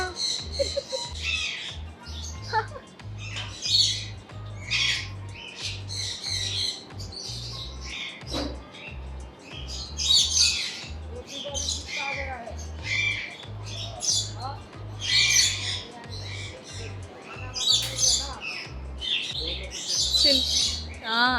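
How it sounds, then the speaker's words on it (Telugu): Harsh macaw squawks burst out repeatedly at close range over rhythmic background music at a bird exhibition in Hyderabad, with people talking intermittently. "ఇది వచ్చేసి మకావ్"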